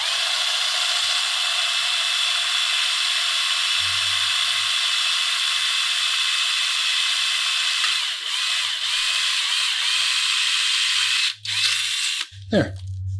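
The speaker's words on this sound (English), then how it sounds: "I'm going to use just a standard hand drill" A hand drill boring a pilot hole in metal makes a steady, high-pitched whirring grind that runs continuously, with brief low thumps and a short rising squeal near the end as the tool stops.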